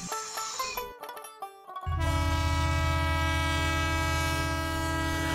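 Train sound effect in a Bengali audio drama about an afternoon train to Kolkata: a few clanking, ringing tones give way to a loud, sustained train horn blast holding steady and close, with no voices.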